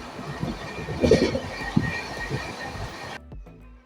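The Dhauli Express runs along the rails with a steady rumbling roar and scattered clatter from the wheels, swelling briefly before cutting off abruptly near the end.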